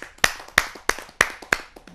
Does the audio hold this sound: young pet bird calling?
no